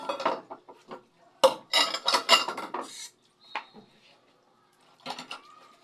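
Dishes, pots and cutlery are handled while being washed: bursts of clinking, knocking and scraping in uneven clusters with quiet gaps, close by, without speech.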